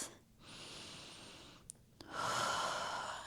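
Slow, relaxed breaths drawn near and soft while someone holds a seated spinal twist during a Pilates full-body stretch, a long exhale, a pause with faint clicks, then a fuller breath.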